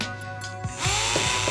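A brief whir of a power drill spinning up, steady motor hum with a short revving burst near the end.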